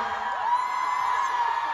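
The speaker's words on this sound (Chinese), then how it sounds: "화이트리要完成的话呢，就需要你们的支持跟很大的尖叫声。" A concert crowd at a solo show in Taipei cheers and screams in a sustained, distant roar of massed high-pitched voices, fairly faint and steady.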